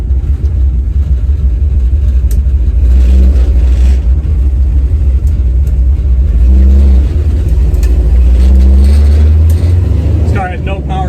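A 383 stroker V8 in a 1970 Chevrolet Nova idles around 700–800 RPM with a deep, lumpy rumble that stays loud and steady, with someone talking over it.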